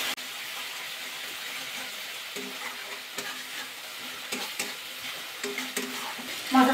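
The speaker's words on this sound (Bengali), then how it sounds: "মশলাটা কিন্তু ভালো করে কষিয়ে নিতে হবে।" Spice paste being sautéed and stirred in oil for a soybean and egg bhuna, a steady close sizzle with scraping stirring strokes scattered throughout and no talking.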